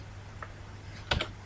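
Someone types a few keystrokes on a computer keyboard while entering an Outlook 2010 appointment: one soft tap, then a quick pair of louder clicks, close up over a faint steady hum.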